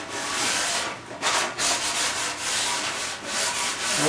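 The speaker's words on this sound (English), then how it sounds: "Get a piece of sandpaper, then have a little of that." Sandpaper rubs across an antique oak table top in a loud, continuous, close-up sanding hiss, broken by a few brief pauses between strokes.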